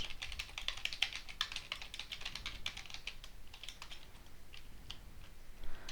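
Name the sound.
computer keyboard typing Python code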